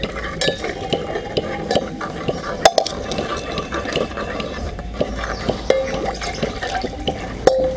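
Curd goes into simmering kadhi for Nagpur-style kadhi patodi and is stirred steadily, giving soft liquid swishes and occasional sharp spoon clinks against the pot, close and continuous with no talking.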